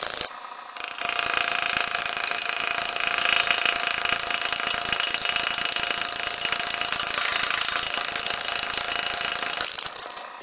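A homemade pneumatic metal engraver runs steadily against metal for about ten seconds, making a loud, continuous high-pitched buzzing rasp that starts abruptly and stops near the end.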